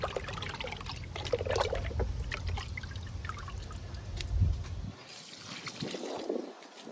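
Liquid kitchen-waste fertilizer for fruit, drumstick and curry leaf plants pours from a can in a steady, soft splashing trickle that continues for several seconds before thinning out near the end.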